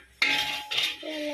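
A metal spoon scrapes and clinks against a cooking pot while stirring masala for chicken biryani, two close, sharp strokes followed by a ringing tone.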